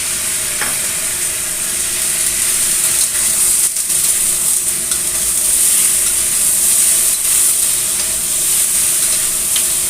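Tomatoes tipped into a hot pan of chicken spaghetti sauce, giving a steady, loud sizzle and frying crackle that fills the whole stretch, with faint stirring scrapes and no voices.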